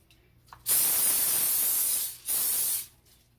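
A loud, close aerosol cooking spray hisses onto a 9-inch cake pan in two bursts, a long one followed by a brief pause and a shorter second spray.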